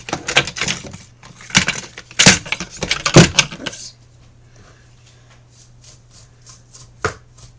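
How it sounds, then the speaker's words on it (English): A knife chops fresh dill on a board in a home kitchen, a flurry of sharp close knocks for a few seconds, then quieter with a few faint taps and one more clear chop. "And then I'm going to chop up some dill"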